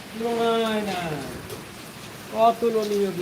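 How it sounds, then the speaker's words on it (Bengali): Heavy rain hisses steadily in the background while a person talks loudly over it in two bursts. "বিশাল বৃষ্টি বৃষ্টির কোনো তুলনাই নাই"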